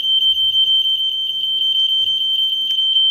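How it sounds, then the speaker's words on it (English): Flood sensor alarm buzzer from a flood control and monitoring system, a steady loud electronic tone that pulses rapidly and evenly throughout, with faint low electrical hum beneath. "So that this buzzer will give a sound,"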